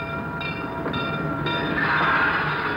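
Steady rumbling train on rails, a continuous rolling drone with faint metallic tonal lines, loud and close throughout with no talk.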